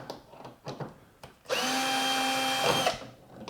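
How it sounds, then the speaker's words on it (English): A power screw gun whines loudly for about a second and a half while backing screws out of a Samsung washer dryer, preceded by a few soft clicks and handling taps. "get your gun, you can gun him out."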